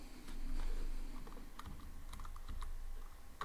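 Typing on a computer keyboard while coding in Python, a quiet, rapid run of clicking keystrokes in an irregular rhythm.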